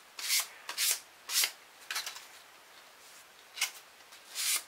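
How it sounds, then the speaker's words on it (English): Sandpaper rubbed along the sharp trailing edge of a nylon glow-engine propeller, six or seven short scratchy strokes in an uneven rhythm, close and fairly quiet against near silence. "run that sandpaper along that edge"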